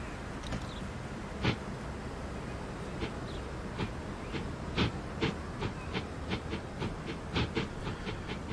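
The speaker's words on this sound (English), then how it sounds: "There is a train in that station right now." A train in the Transport Fever 2 game sits in a station amid steady hissing ambience, with a series of sharp clicks and clacks popping up irregularly, more frequent toward the end.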